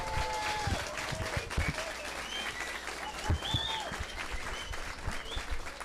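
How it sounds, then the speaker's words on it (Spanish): Audience applause fills a gathering at a talk on forest fires in Bogotá, steady clapping from a room of people with some voices mixed in, sustained at moderate loudness throughout. "Quiero que le demos un aplauso a Orlando, a Lilia y a María, por favor."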